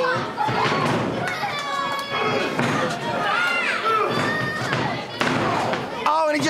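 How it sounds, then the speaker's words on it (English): A heavy thud from a wrestler striking an opponent's head lands in the ring at an AWF tag team match, amid a noisy crowd and excited ringside commentary. "And he just smashes him right in the skull."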